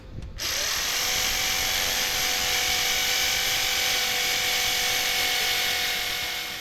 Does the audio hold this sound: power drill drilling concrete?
yes